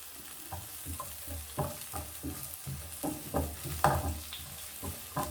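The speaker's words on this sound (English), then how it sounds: "cook our onion first until it is golden brown" Onion frying in cooking oil in a pan, a steady close sizzle broken by repeated scraping stirs of a spoon, no voices.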